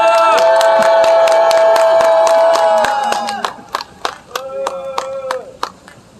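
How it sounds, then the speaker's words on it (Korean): Rally crowd outside the Sejong Center, at a protest against contaminated water, greets a singer: sustained tonal sound fills the first half, then scattered, sharp handclaps ring out irregularly and fairly close. "우리 힘찬 박수로 모시겠습니다"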